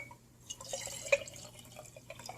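Water poured from one container back into another during a liquid-volume comparison, heard as soft drips and light trickling splashes, quiet and close, with no talking.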